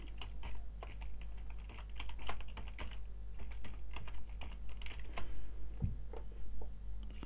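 Typing a formula into a LibreOffice Calc spreadsheet on a computer keyboard, a rapid irregular patter of close key clicks over a low steady hum, with no talking.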